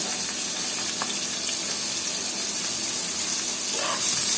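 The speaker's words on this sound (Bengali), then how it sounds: "এটা একটু বেরেস্তা করার জন্য তেলের মধ্যে ভাজতে হবে" Sliced onions frying in hot oil for crisp fried onions, alongside dried red chillies, make a loud, steady, hissing sizzle that stays even from start to finish, with a few faint clinks.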